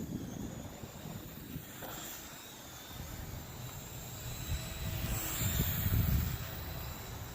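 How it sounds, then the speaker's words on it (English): Strong gusty wind roars and buffets the microphone outdoors at night while a small H501S drone flies, a steady rushing noise that swells toward the end, with no talk. "The wind is really blowing crazy. Feels like it's blowing in different directions."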